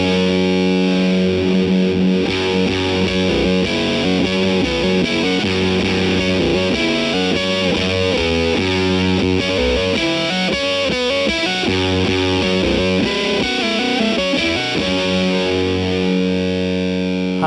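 An electric guitar plays through an EarthQuaker Devices Fuzzmaster General octave fuzz pedal, giving a loud, dense, heavily distorted riff that continues without a break and with no talk over it.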